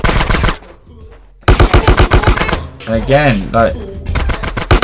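Rapid automatic gunfire in GTA San Andreas crackles in loud, dense bursts, breaks off briefly, then returns over a voice speaking partway through.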